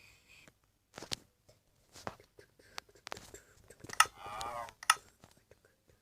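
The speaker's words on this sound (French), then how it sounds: "tais-toi la vache" A cow mooing in the video game Minecraft, one drawn-out, wavering moo near the end, amid sparse clicks and taps with a quiet voice murmuring in the background.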